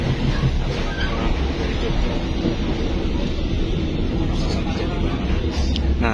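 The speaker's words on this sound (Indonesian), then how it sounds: "barusan berpapasan dengan kereta api Taksaka tambahan" An additional Taksaka passenger train passes on the railway near Jatibarang station in Indonesia, a steady broadband rumble of wheels and cars that carries on without a break from start to finish.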